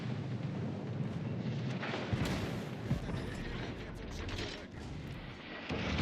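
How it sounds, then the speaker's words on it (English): The Italian battleship Roma fires a heavy gun salvo in World of Warships Legends, with booming blasts and rumbling impacts around 2–3 s amid continuous loud naval battle noise. "Roma's next salvo does in fact not miss"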